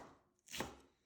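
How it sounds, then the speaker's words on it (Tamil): A single quick knife stroke through vegetables on a board, cut finely during home cooking in a kitchen, one short crisp chop standing out against a quiet background. "இந்த மாரி நல்லா பொடியா கட் பண்ணிக்கோங்க"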